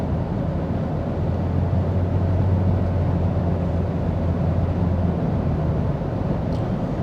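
2025 Toyota Corolla Cross XLE FWD engine intake resonance while driving, a steady low droning hum that holds evenly throughout under constant road and cabin noise, with no talking.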